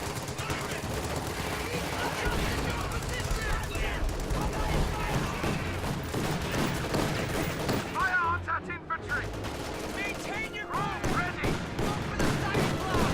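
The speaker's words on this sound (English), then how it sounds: "Time on target artillery just destroyed this house" A video game time-on-target artillery barrage destroying a house: heavy, continuous rumbling blasts and gunfire layered together, a short dip in the middle before the explosions resume, with voices faintly mixed in.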